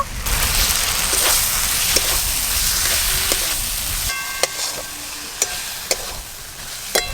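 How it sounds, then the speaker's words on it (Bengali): Spice masala being sautéed with pre-fried potatoes for a bhetki fish curry, with a dense close sizzle and scraping stirs that quiet down halfway, leaving sharp periodic clicks of the spatula against the pan. "ভেজে রাখা আলু দিয়ে আর একটু কষে নেব।"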